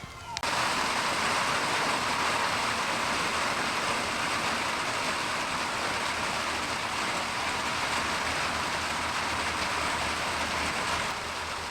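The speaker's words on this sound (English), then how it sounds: "It's starting to rain." Rain falls steadily over a garden with raised beds, a dense, even hiss that stays loud and close without pause for the whole stretch.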